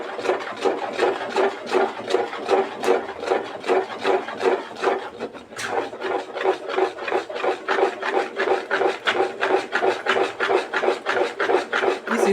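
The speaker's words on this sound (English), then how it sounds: "You have to turn it very well so that the lump will go away." Cake batter being stirred in a bowl to work out lumps: a steady, rhythmic scraping and rasping at about two to three strokes per second, close and continuous with no talking.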